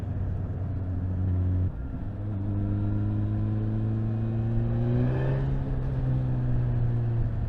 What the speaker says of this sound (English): Just toying around with the throttle response here